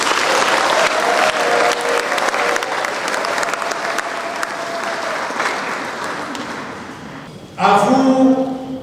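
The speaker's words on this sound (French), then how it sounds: "Applaudissez vos prêtres." A congregation in Sainte Barbe et Saint Eloi cathedral in Kolwezi applauds its priests during the 2023 Chrism Mass. The loud clapping fades gradually over several seconds, then a brief burst of louder sound and voices comes near the end.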